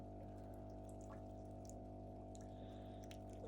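Water from a main fish tank poured into a live food culture for betta fry, a faint continuous trickle over a steady low hum.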